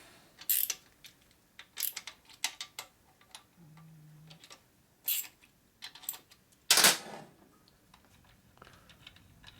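Tools clicking and clacking while loosening bolts on a 1946 Harley-Davidson knucklehead motor being rebuilt, with sharp scattered taps and short ratchet-like bursts in a quiet room.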